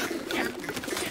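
Cartoon pigeons in a dovecote give soft, murmuring coos in a brief burst over a dense background.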